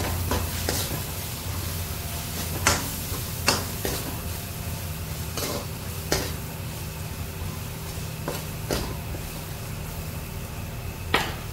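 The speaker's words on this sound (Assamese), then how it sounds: "এতিয়া লৰাই দিম।" Onion and egg masala being stirred in a pan, Assamese style with cumin powder added, giving a steady soft sizzle with scattered spoon scrapes and clicks against the pan, close and moderately quiet, with no talking.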